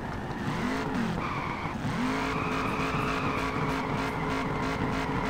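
An old Mazda drifting in an online drift game. The engine holds a steady high-pitched drone at the rev limiter, with some tire noise under it. It sounds loud and continuous, with a brief dip near the two-second mark.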